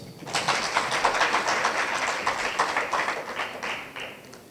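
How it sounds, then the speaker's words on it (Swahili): Audience applause at a gathering, a burst of dense clapping that swells quickly, holds for a few seconds and tapers off, with no talking over it. "tumpigieni makofi"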